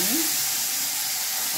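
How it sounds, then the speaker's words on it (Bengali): Pieces of hilsa fish frying lightly in hot oil, giving a steady, close sizzling hiss throughout with a brief faint tonal sound near the start. "ইলিশ মাছগুলোকে ফার্স্ট হালকা করে ভেজে নেব"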